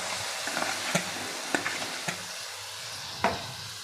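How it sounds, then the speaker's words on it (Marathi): Mashed eggplant being stir-fried with onion and masala for bharit in a pan, a steady low sizzle broken by a few sharp spatula scrapes and taps at irregular intervals, close and with no talking. "आणि आपल्याला हे परतून घ्यायचं आहे"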